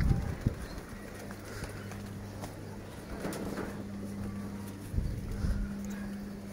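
Local domestic pigeons in their loft coo in low, repeated, rolling phrases, with occasional soft bursts of wing flapping and fluttering nearby.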